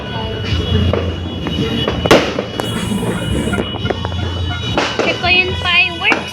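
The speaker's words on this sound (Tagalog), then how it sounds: "Check ko yung fireworks sa sky." New Year fireworks burst in the night sky, with sharp cracks and booms popping irregularly at moderate distance. People chat throughout.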